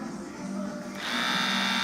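A split-end hair trimming machine runs on a client's hair at a salon, a steady high electric whir that rises in pitch and grows louder partway through as it bites into the hair ends.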